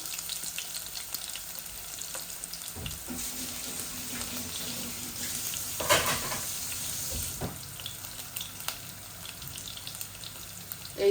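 Garlic frying in a pan makes a quiet, continuous hiss, broken by a few light clinks and stirring knocks, with no speech.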